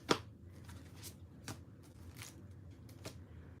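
A stack of Christmas cards from an estate sale haul being handled, with several soft papery flicks and rustles, one sharper snap at the start, quiet and close with no talk.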